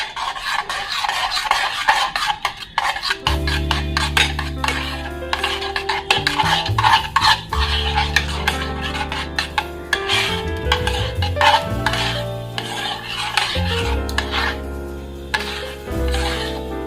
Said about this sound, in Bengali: এবারে খুব ভালো করে মিশিয়ে নেব।